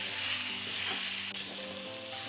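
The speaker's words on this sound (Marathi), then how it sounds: "हे सगळं एकत्र मी आता थोडं तेलावर परतून घेणार आहे" Ground masala for bhogi chi bhaji sautéing in oil in a pan, a steady close sizzle with light stirring, no voices.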